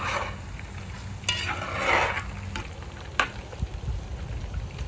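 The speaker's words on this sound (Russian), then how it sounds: "Да, мясо не жарится, оно обжаривается." Meat searing and sizzling in hot oil in a pot for plov, a steady frying hiss with occasional stirring scrapes and clatters, close up with no talking.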